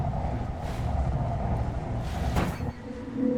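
A hoverbike engine from the video game Sable drones steadily with a low rumbling tone and airy whooshes swelling past, continuous and fairly loud with no talking.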